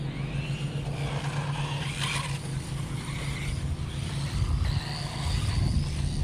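A brushless 1/14 scale RC truggy with big tires drives through grass, its electric motor giving a thin whine that rises and falls with throttle over a soft rustling rumble, fairly quiet and steady, with no talking.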